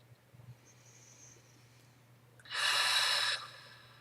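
One deep, forceful breath rushes out close to the microphone, loud and brief against a quiet room with a low steady hum, during a spiritual channelling session.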